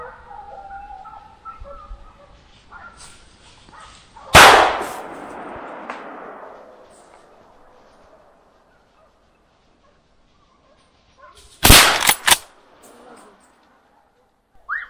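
Gunshots ring out during a driven wild boar hunt in the woods: one loud sharp report, then a close cluster of two or three more several seconds later, with rustling and faint background sounds between.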